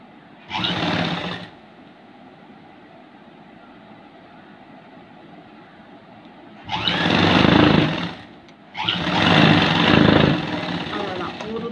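A sewing machine stitches a blouse seam, joining the sleeve at the shoulder, in three bursts: a short one first, then after a long pause two longer, loud runs of rapid stitching close together.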